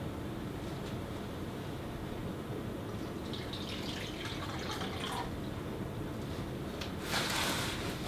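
Cold water is poured out as a libation during a summer solstice ceremony, a soft steady trickle and drip that swells into a brighter splash near the end.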